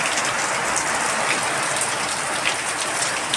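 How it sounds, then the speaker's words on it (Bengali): Heavy downpour drumming on a clay-tiled roof, a dense, steady roar of rain with scattered louder drips, continuous and close throughout with no voices. "এই দেখো, এখন আবার মুষল ধারায় বৃষ্টি নামলো।"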